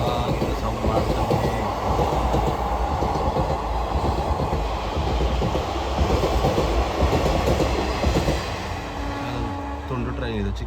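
A short, small train passes close by, a loud continuous rumble of wheels and carriages with rhythmic clatter throughout, steady and dense from start to end.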